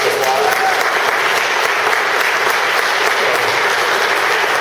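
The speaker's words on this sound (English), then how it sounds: "let's definitely give them a big round of applause" Sustained applause from an audience at a regional gathering, a steady dense wash of many hands clapping that stays loud and even throughout, with faint voices mixed in.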